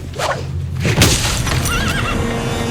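A horse neighs loudly in the Xena episode "Hooves and Harlots," a shrill whinny with a shaky, wavering tail, set against thumps and noisy background clatter.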